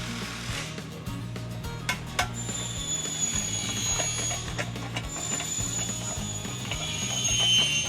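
A power driver set to a high torque setting, around 100 to 150 inch-pounds, clutches out under load with a continuous rapid mechanical ratcheting clatter, steady and close, under a faint high whine, and no one speaks.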